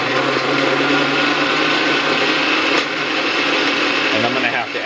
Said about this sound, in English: So I have a little tiny blender right here